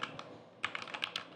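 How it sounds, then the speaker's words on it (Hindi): Quick, light clicks of fast typing on a computer keyboard, close and fairly quiet, in an irregular burst of about ten keystrokes with no talking. "टाइपिंग फास्ट है मेरी तो वर्ड थोड़ी कभी इधर उधर हो जाते हैं"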